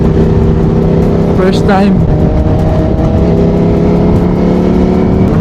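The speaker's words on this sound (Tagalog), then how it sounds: "May makakasalubong tayong kotse." A car approaches from the opposite direction and sweeps past on the road, a brief rising and falling whoosh near the middle, heard under the loud steady drone of the rider's own motorcycle engine and wind, with a short spoken comment.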